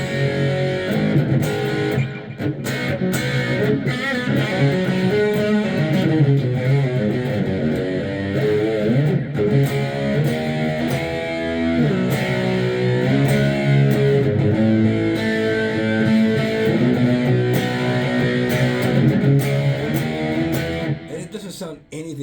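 Electric guitar playing a riff through a 1990 Digitech GSP 21 Pro multi-effects preset with saturated, chorus-like effect, loud and continuous with thick sustained tones and no voices.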